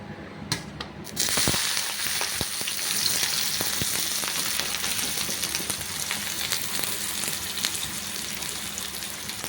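Onions dropped into hot oil for a ridge gourd kootu, starting with a few clicks and then bursting into a loud, crackling sizzle that continues steadily with popping spatters, no talking.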